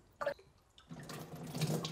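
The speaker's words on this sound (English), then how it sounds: "Then remove the cover of the pool tester and rinse the inside" Water splashes and sloshes as a plastic pool tester is rinsed, with a short splash followed by a longer, continuous run of trickling water close by.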